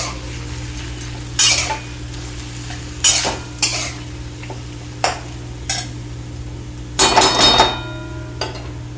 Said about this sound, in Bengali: তারপরে আমি এখন টমেটোটা গলা অবধি ভাজতে থাকবো।